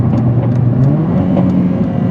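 A Mercedes-AMG A45 4MATIC+ of the W176 generation accelerates with a loud, close, steady engine drone from inside the car, with no talk.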